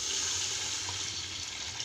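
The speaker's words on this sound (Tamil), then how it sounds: "அதுக்கு நம்ம 3 படி தண்ணி ஊற்றிக்கலாம்." Water is poured into raw rice in a pot for vegetable biryani, a soft steady splashing pour with a hissing wash, faint and continuous throughout.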